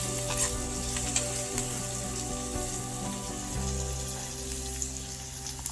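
Vegetables, including beans salted for softening, frying in hot oil, a steady sizzling hiss with faint scattered crackles, continuous and close, with no talk over it.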